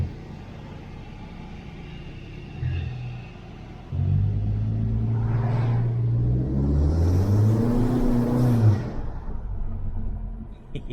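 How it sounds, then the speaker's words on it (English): A 2021 Honda Civic Sport Hatchback drives on back roads, its engine note droning inside the cabin and climbing in pitch through acceleration before easing off, with no voices. "we're just going to do some back road driving"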